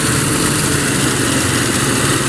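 Engine of a rice mill processing palay runs loud and steady, a continuous dense mechanical roar with no change in pace.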